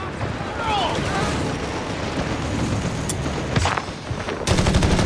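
Heavy machine gun firing in the Company of Heroes 3 war game amid dense battle noise, rapid bursts and booming impacts, with rattling fire growing louder near the end and voices shouting over the combat.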